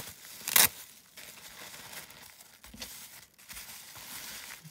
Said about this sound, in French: Alors, je vais juste enlever le scotch.